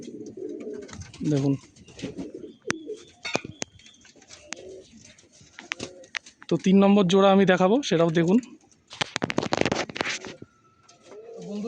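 Fulshira tippler pigeons coo in throaty, rolling bursts near a board loft, interleaved with someone talking and some clicks.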